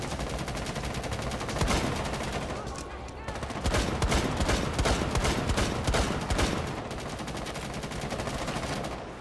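Rapid bursts of video game gunfire crackle continuously in a zombie outbreak mode, with dense automatic fire and occasional louder shots throughout.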